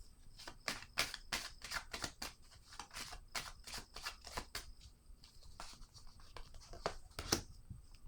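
Tarot cards are drawn and handled in quick, soft flicks and rustles, a close, quiet series of short papery slides and snaps with no talk.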